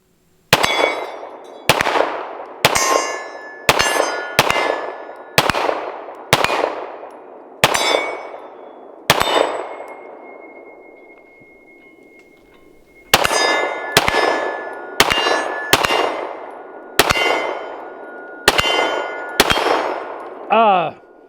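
Canik TTI Combat pistol shots ring steel targets in a fast string of about fifteen sharp cracks, each followed by a bright metallic ring, with a pause midway and a lingering tone. No talking.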